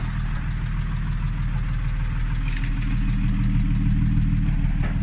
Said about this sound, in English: it's a 1969 fully functional, beautifully restored Mercedes Unimog